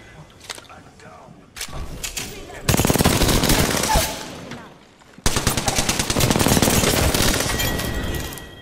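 Rapid automatic gunfire in the battle royale shooter Apex Legends, loud sustained bursts with brief gaps, mixed with earlier scattered shots and players talking over voice chat.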